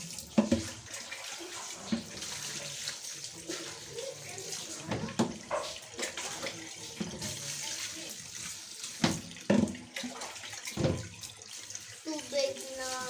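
Tap water runs and splashes in a kitchen sink as spaghetti is rinsed, with uneven bursts of pouring and clattering under occasional quiet voices.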